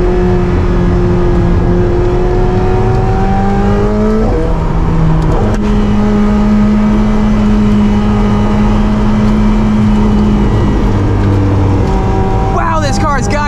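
A 2022 McLaren 720S Spider supercar engine droning steadily with shifting revs on the road, loud and close, while someone talks over it.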